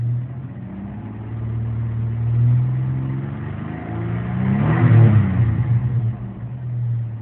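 A 1997 Ford Explorer engine idles just after a cold start with a steady low rumble, briefly swelling louder midway before settling back; close, no talking.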